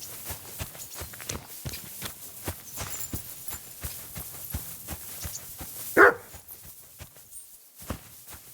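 Over steady footsteps and hoofbeats in Kingdom Come: Deliverance II, a single short dog bark rings out, moderately loud and slightly distant, set within quiet medieval game ambience.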